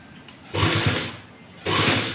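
A sewing machine stitches lace onto a small doll's dress for Laddu Gopal, giving two short, close bursts of whirring stitching separated by a brief pause.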